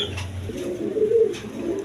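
Iranian reshar pigeons coo in a low, soft, throaty murmur, close by and continuous, with no voices over it.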